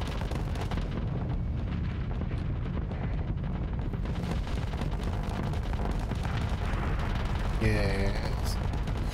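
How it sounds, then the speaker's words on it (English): Vulcan cannons blazing away in the space combat game Starsector, a dense continuous roar of rapid fire with booming impacts throughout, loud and sustained, with a brief electronic tone near the end. "Let's have our Vulcan cannons kill all their broadswords."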